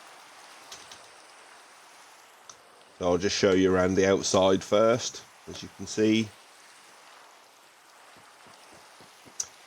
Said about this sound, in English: Shame it has to be raining, really.